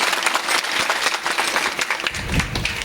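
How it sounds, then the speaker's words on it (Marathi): Hearty applause from a crowd gathered at a devotional foot-pilgrimage (dindi) ceremony on the route from Dhodambe fort toward Trimbakeshwar, with dense, continuous clapping that swells near the end. "त्यांच्याकरता एकदा जोरदार टाळ्या वाजवा"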